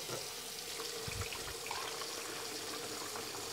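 A tap runs water into a container to fill a rinse bath for home slide film developing, a steady quiet flow with a few soft bumps, no voices.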